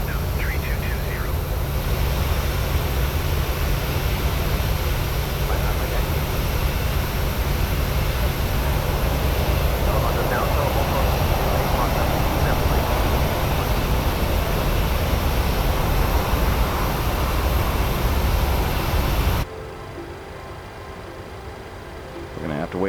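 An airliner taxiing to the gate in a flight simulator game, a loud, steady engine and cabin drone that runs unbroken and then drops away abruptly near the end.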